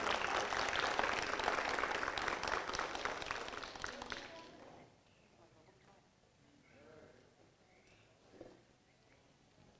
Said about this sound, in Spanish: Pedimos un fuerte aplauso para nuestra promoción 2020.